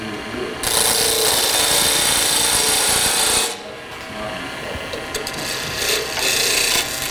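A wood spindle spinning on a lathe at around 1800 to 2000 RPM while a tool cuts a snowman shape, giving a steady loud rasping scrape that stops briefly and then resumes over the motor's hum.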